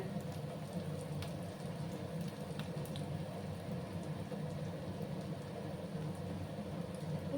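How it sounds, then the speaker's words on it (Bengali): Sylheti rujot leaf fritters frying slowly in oil over low heat, a steady fine crackling sizzle that holds evenly from start to finish, close and moderately quiet, with no talking. "সময় নিয়ে আমি এগুলোকে ভেজে নেবো বন্ধুরা।"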